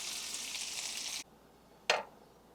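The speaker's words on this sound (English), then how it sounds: "So we're just going to cook this till it's done, okay? Right in that bacon grease." Chicken frying in bacon grease on a stovetop, a steady loud sizzle that cuts off abruptly, followed by a single short sharp hiss burst.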